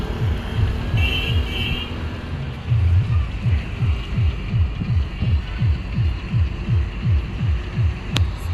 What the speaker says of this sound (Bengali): না, ছোট ট্রলার,